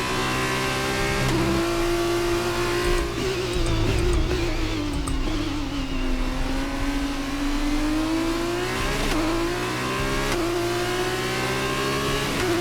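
In the video game F1 23, an F2 race car engine drones continuously at high revs around the China circuit, pitch rising and dipping as it accelerates and shifts, with no voices.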